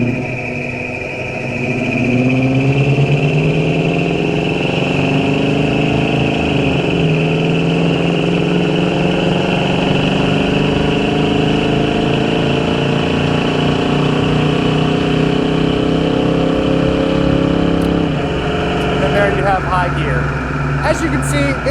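A 1984 Hurst Olds with a 350 V8 and automatic transmission, its steady engine drone rising and falling as it shifts through the gears, with a person talking over it throughout.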